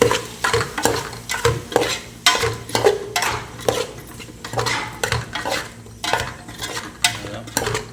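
A spatula stirs potatoes and beetroot frying in a metal pan, with repeated scraping and clattering strokes over a steady sizzle, close and fairly loud, no voices.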